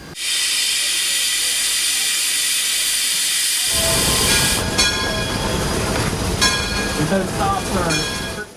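A loud, steady steam hiss runs throughout, joined midway by heavy rumbling and clanking of a gear-driven steam locomotive in motion, climbing a steep grade at slow speed at Roaring Camp.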